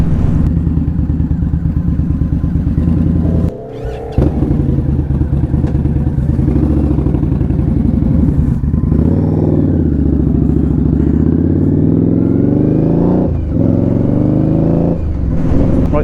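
An Indian Scout Bobber motorcycle pulls away from a UK fuel station, its engine rumbling loud and close with a brief dip as it shifts, then rising revs as the ride picks up.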